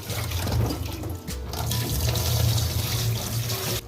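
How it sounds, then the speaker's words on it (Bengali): Mushrooms are rubbed by hand in a large bowl of water, giving continuous near sloshing and splashing with small surges of swirling water throughout and no speech. "বড় পাত্রের মধ্যে ভালো করে জলে ডোলে ডোলে ধুয়ে নেব"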